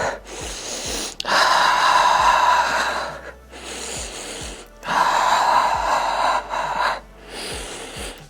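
Loud, forceful breaths during a Pilates swimming exercise: long rushing inhales and exhales alternate in a steady rhythm, close to the microphone, with no talking.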